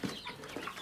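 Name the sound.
chickens clucking while eating bird feed and mealworms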